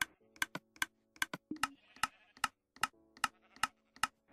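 A Minecraft redstone repeater machine, a rapid-fire contraption, clicks in a steady run of about a dozen sharp, evenly spaced ticks, close and fairly loud, with a faint hum between them.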